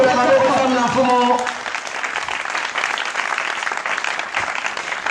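Church congregation applauding and acclaiming the Lord: music and voices fade after the first second into a loud, continuous crowd of clapping and cheering that carries through to the end.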